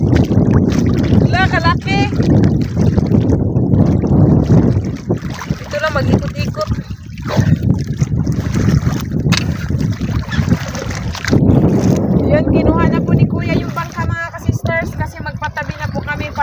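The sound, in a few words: paddling a small boat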